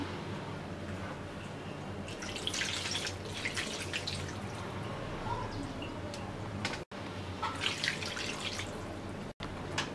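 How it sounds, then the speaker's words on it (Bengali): Two cups of water go into a pan of rohu fish and pointed gourd, heard as two bursts of splashing, trickling pours over a low background hum. "এবার আমরা দিয়ে দিচ্ছি 2 কাপ পানি"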